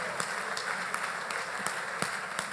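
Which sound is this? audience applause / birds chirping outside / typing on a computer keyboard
audience applause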